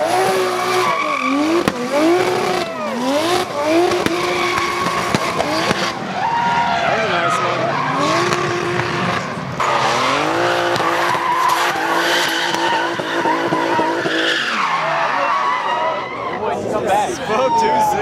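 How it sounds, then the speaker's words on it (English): Race cars drifting at HyperFest 2017 at Virginia International Raceway, tires squealing and skidding continuously through 360-degree spins, with loud engines revving near and far and sweeping tire howls over the whole stretch. "Last event of the Drift Games was to do a 360 from a drift and out of a drift as they went back to the pits"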